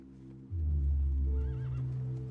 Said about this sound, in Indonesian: Mereka berkuda ke arah barat untuk menemukan pertolongan.